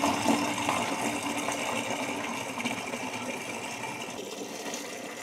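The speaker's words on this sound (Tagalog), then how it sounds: "Malakas yung tubig nila." Strong tap water gushing steadily at a campsite bathing area, a loud, close, continuous rushing stream that holds even from start to finish with no voices.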